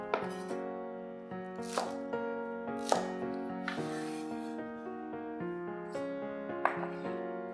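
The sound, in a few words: knife cutting spring onions on a board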